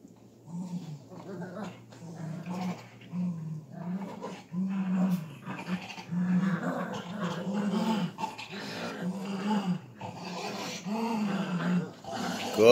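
Several dogs growl in repeated short, rumbling bursts while playing tug of war with a toy, close and moderately loud, with a few whimpers and a person talking now and then.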